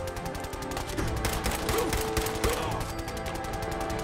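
Continuous rapid automatic gunfire in the video game Fallout 4, a dense unbroken burst of loud shots that holds steady for several seconds with background game sound.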